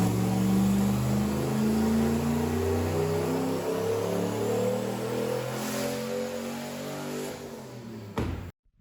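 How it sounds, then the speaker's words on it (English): A turbocharged Foxbody Mustang with a Tremec TKX gearbox roars through a dyno pull, its loud, steady engine note climbing in pitch for about eight seconds before cutting off abruptly. "I decided to include the Dyno Pull that I did, so here it is"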